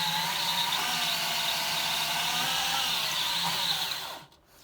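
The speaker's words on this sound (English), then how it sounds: "This is a variable speed drill," A variable speed drill used for rock and mineral polishing runs steadily at high speed with a bright whine, loud and close, then winds down and stops near the end.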